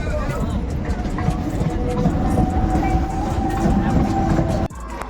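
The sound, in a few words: passenger train passing at a station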